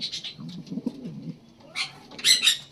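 Large pigeons in a loft give soft, low cooing murmurs close by, followed by a few brighter flutters and chirp-like notes in a quiet setting.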